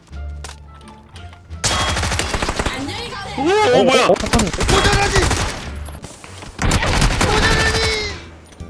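First-person shooter game gunfire crackles in dense, rapid bursts of automatic shots, loud and close, interrupted by short pauses, while excited voices talk and exclaim over the shooting.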